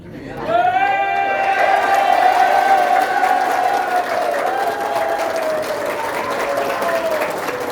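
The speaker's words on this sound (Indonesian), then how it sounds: "Masa tepuk tangan untuk dirinya sendiri cuma kayak gitu?" Seminar audience claps loudly and steadily for several seconds in Indonesia, a thick wash of applause under a raised voice that keeps speaking over it.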